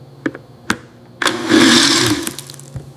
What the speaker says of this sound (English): A blender mixes liquids.